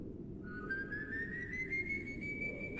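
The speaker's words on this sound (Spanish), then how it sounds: "Pero entonces vino otro silbido." A single eerie whistle, part of a horror story set during a night shift, rises slowly in pitch as one long sustained tone over a low background rumble, moderately faint and alone.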